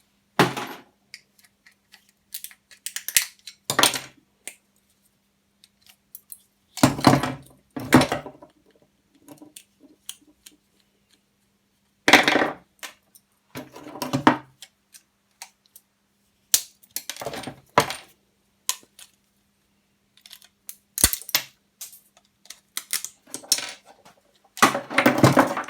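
Scrap brass pieces and copper wire clink and rattle as they are sorted by hand, in irregular bursts of metallic clatter separated by quiet pauses, close and fairly loud.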